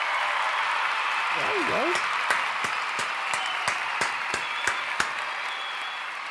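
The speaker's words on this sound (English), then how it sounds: "We're gonna give you a round of applause for that one." A round of applause, a dense, even wash of clapping heard throughout with sharper individual claps standing out, while someone speaks briefly over it.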